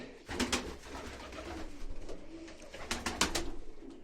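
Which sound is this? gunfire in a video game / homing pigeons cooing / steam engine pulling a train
homing pigeons cooing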